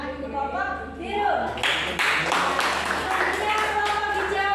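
A class of students claps for a group after its arts performance in a classroom. The clapping rises in the second half and runs under voices and other sound.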